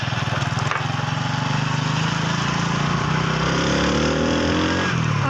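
A motorbike ridden home engine hums loud and close, a steady buzzing drone that holds throughout with slight rises in pitch as it moves along.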